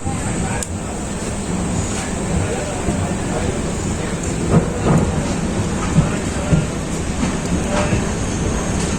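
Rain falls steadily with low rumbling underneath, likely distant thunder, and a few faint knocks scattered through, heard aboard the Purnagiri Jan Shatabdi Express train.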